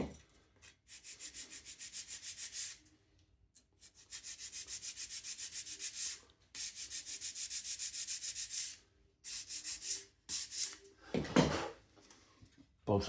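Sanding an edge on a balsa model aircraft fuselage, heard as close rhythmic bursts of rapid abrasive rubbing separated by short pauses, then a brief handling clatter near the end.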